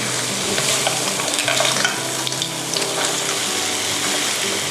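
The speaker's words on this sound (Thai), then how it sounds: "เราก็จะใส่เส้นสปาเกตตี้ลงไปค่ะ นี่ก็คลุกนะคะ ให้ทั่วเส้นแบบนี้" Spaghetti is tossed in a hot pan with clams and Thai roasted chili paste: loud, continuous sizzling with wet stirring and scraping throughout, close up, with no voices.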